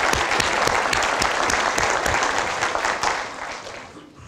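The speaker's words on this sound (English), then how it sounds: "I think we should give a round of applause to the kids that completed those programs and to our community partners" Audience at a city State of the City event in Watsonville, California, claps loudly and steadily for the kids and community partners, with sharp individual claps audible before the applause fades away.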